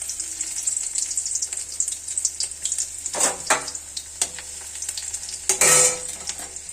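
Garlic frying in oil in a wok, a constant bright crackle with a few louder scraping stirs of a spatula, close and without talk.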